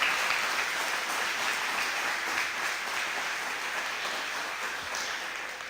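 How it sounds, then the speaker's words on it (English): Steady audience applause at a university grand opening ceremony in Texarkana, a dense, even wash of many hands clapping that holds at a constant level and tapers slightly at the end, with no talk over it. "So please join me in a round of applause as we welcome to the podium Dr. Bobbitt."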